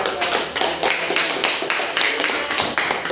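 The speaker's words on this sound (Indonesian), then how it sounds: "kita kasih dulu aplaus yang meriah untuk kelompok" Group applause for a presenting team in a classroom setting, many hands clapping densely and fairly close, steady for about three seconds.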